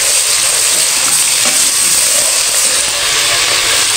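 Browned onions frying in a pan with a spoonful of ginger-garlic paste, giving a loud, steady, close sizzle that runs unbroken throughout with no talking.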